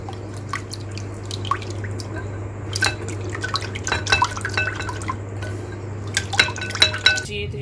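Crepe batter for chicken shawarma crepes, with a spoonful of oil added, is stirred in a bowl: wet sloshing and irregular clinks of utensil against the bowl over a low steady background hum.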